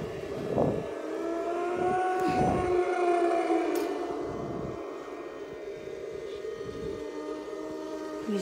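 A Halloween haunting ghost bride prop sounds off at low volume with steady eerie wailing, howling tones and moaning swells over a constant droning hum, fairly faint and without speech.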